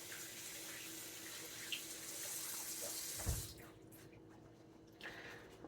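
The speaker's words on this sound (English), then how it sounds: "As soon as I rinse my hands." Hands rinsed under a running kitchen tap, a steady close rush of water into the sink that cuts off partway through, followed by a few soft drips and clatters in the quiet.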